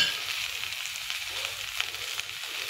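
Tomatoes and green chillies frying in onion masala for egg curry, a soft continuous sizzle at moderate level with faint stirring and no talking.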